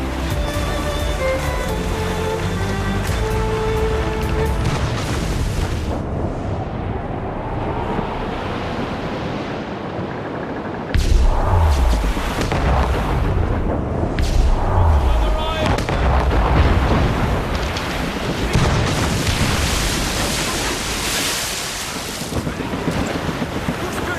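Naval cannon fire in the video game Assassin's Creed Rogue during a ship battle at sea, heavy booming volleys over constant wind and surf, loud and dense, with game music and shouted crew voices mixed in.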